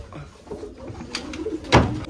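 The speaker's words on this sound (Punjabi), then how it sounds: "ਗੋਪੀ ਵਾਲਾ ਕਬੂਤਰ ਇਹ ਇਹਨੂੰ ਛੱਡਦੇ ਆਪਾਂ ਥੱਲੇ" Baby pigeons on a rooftop perch give soft, low coos at close range, and a short, sharp burst near the end sounds like wing flutter.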